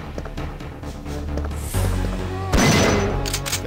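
Gunfire in the Mercenaries bonus game: a rapid burst of close, loud shots with a heavier blast near the end, over a game soundscape.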